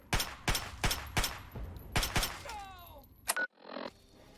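Gunfire in the video game Fallout 3: about seven sharp, loud shots at an uneven pace, followed by metallic clicks and a short final burst.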